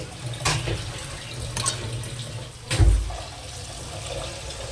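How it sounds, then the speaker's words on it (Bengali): Water poured into a pan of cooked masala while making shahi paneer, a steady splashing and hissing pour with a couple of louder surges. "এবার আমি জল দিয়ে দেবো।"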